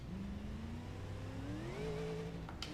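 A turbocharged car engine with stage 3 turbos and an over-torqued engine revs in BeamNG.drive, a rising whine that climbs steadily in pitch over a couple of seconds and stays fairly quiet, ending in a brief rattly burst.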